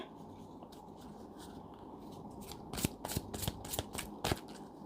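Tarot cards shuffled during a love-horoscope reading: a soft papery rustle builds into several quick, crisp riffling bursts near the end, close and alone with no talk.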